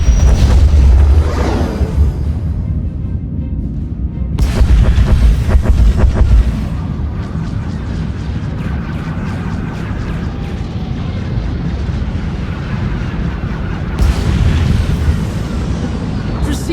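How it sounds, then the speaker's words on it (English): Bombardment in the video game Star Wars: The Old Republic, with heavy booming explosions and low rumbling blasts that recur over a continuous roar, while a voice speaks over parts of it. "Proceeding with bombardment."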